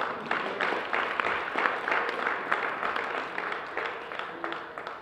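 Audience applause at a 50th anniversary celebration of the Black Economic Union, dense steady clapping across the room, moderately loud and continuous with no talk over it.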